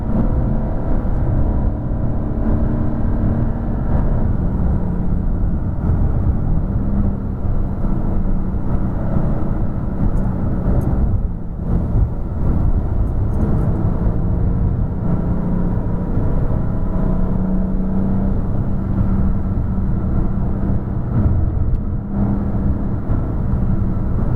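A Porsche sports car lapping a race track, its engine a steady, loud, close-miked drone held at partial throttle, with a constant low rumble running the whole way through and no talk.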